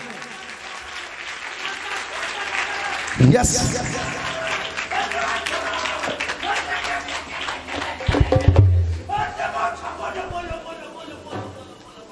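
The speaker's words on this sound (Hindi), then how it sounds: "एक बार यीशु के लिए ताली बजाएं" A church congregation applauds for Jesus, with sustained clapping swelling twice into louder bursts while voices call out over it.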